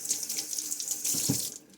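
Water runs steadily from a tap with a hissing splash, the flow shifting and thickening briefly near the end before easing off.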